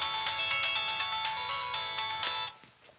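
Phone ringing unanswered, a continuous electronic ringtone melody played loud and close for over two seconds before stopping abruptly, with no talk.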